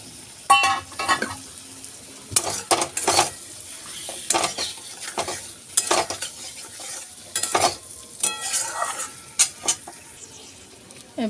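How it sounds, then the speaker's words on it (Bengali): Raw hilsa fish, rubbed with salt and turmeric, frying in a mustard spice paste. It gives bursts of loud sizzling and spatter alongside stirring scrapes and clinks of a spatula against the pan, with quieter gaps between. "এবার মশলাটার মধ্যে আগে থেকে নুন হলুদ মাখানো কাঁচা ইলিশটা আমি দিয়ে দেবো।"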